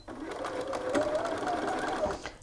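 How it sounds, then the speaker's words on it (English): A sewing machine stitches a side seam at a half-inch seam allowance, running in one steady, close, continuous whir from start to finish with no talking. "And you're just going to sew."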